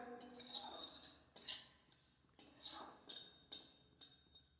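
Gobindobhog rice dry-roasting in a pan, with a utensil clinking and scraping against the metal in a few short bursts separated by brief pauses, close and fairly quiet with no talking.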